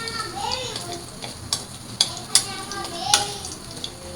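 Garlic frying in a pan for fried rice, a soft sizzle under stirring clinks and scrapes of a utensil against the pan, while a voice and other speech sound in the background.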